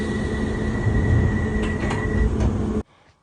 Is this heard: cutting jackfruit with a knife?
no